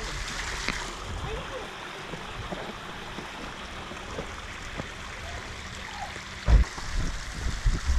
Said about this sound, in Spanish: todo el tiempo está corriendo agua